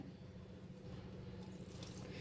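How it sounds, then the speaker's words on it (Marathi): Water poured a little at a time into wheat flour dough during kneading, a soft, faint steady trickle heard close up with no talk. "थोडं पाणी वतून पीठ मळून घ्यायचं मऊ असं।"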